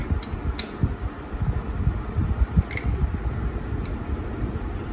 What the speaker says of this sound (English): The fan is on. I hope it's not whirring.